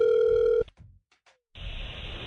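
Telephone ringing on a radio station call, a steady electronic ring tone that cuts off, a short quiet gap, then a line click and a continuous hiss as the call connects.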